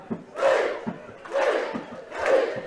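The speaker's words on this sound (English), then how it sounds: "as you can hear, the crowd down below us enjoyed that" A crowd at the 2024 Ulster Schools McCormack Cup Gaelic football final roars in three rising swells after a score. The cheering is broad and sits a little distant, below the listener.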